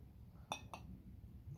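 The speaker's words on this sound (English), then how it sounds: "Let's clink it out." Two bright glass clinks a moment apart as glasses of Tenjaku Japanese whisky are touched together in a toast, close and crisp over a quiet room hum.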